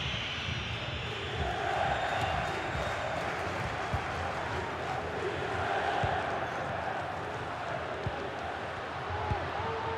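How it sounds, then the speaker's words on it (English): Stadium crowd noise during an Inter versus Bologna match in FC 24, a steady dense roar filling the whole span with swelling cheers, under a commentator's voice. "The crowd encouraging him to take it on."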